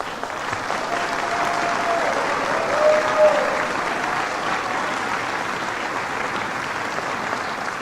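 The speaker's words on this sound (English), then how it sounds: "I want you to hear the clapping for that at the fundraiser" Sustained applause from a crowd at a fundraiser, thick and even from start to finish, with a slight swell near the middle.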